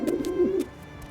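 A pigeon coos in a short, soft low warble lasting about half a second, then fades to quiet; a few faint ticks are scattered through the background.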